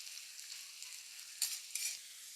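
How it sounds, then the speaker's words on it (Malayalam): Faint, high hissing sizzle of onions frying in oil, steady and soft, with two brief louder bursts as they are stirred. "കുറേശ്ശെ കുറേശ്ശെ എടുത്ത് നമുക്ക് വറുത്ത് കോരിയെടുക്കും"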